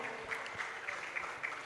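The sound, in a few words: applause for Jibu Water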